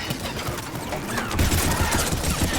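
Continuous gunfire in the shooter game Mass Effect 3: dense, sustained bursts of weapon fire at steady loudness that swell slightly in the second half, with no voices.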